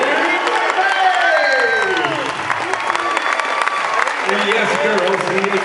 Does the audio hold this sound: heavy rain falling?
no